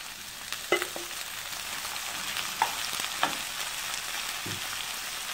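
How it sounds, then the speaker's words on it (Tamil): Sliced ivy gourd (tendli) fries in oil with sautéed onions, making a soft continuous sizzle punctuated by a few sharp knocks and scrapes of the stirring spatula. "நல்லா எண்ணெயில் வதங்கணும்."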